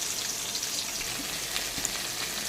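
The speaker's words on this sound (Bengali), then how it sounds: "তাই কাতলা মাছের মাথাটাকে আমি ভালো করে কড়া করে ভেজে নেব।" A catla fish head deep frying until crisp in hot oil, with a steady hissing, bubbling crackle throughout and a couple of faint knocks, no voices.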